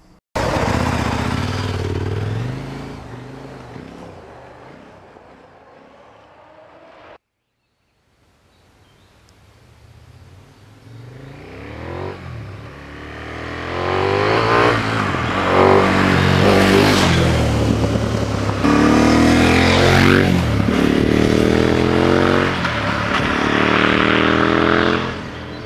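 A 2017 KTM 1090 Adventure S motorcycle engine while riding, loud revving that drops out briefly into near silence, then swells again into sustained high-revving acceleration with rising and falling engine pitch and wind rush.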